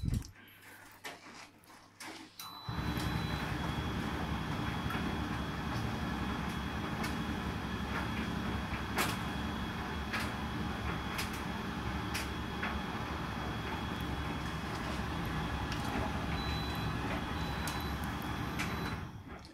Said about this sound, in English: The sound you can hear at the moment is my washing machine.